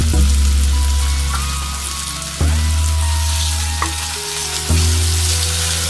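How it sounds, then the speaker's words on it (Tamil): Sliced onions and ginger-garlic paste fry in hot oil in a pan, with a steady loud sizzle broken by a few clattering stirs. "வெங்காயம் கொஞ்சம் அப்படியே வதங்கும் போது இஞ்சி பூண்டு விழுது இதை கொஞ்சம் போட்டுக்கலாம்"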